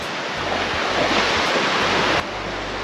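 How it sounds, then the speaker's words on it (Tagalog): Ocean surf washes steadily onto a beach as a dense, loud, close hiss, with wind buffeting the microphone and no talking. "nandito tayo sa may tabing dagat"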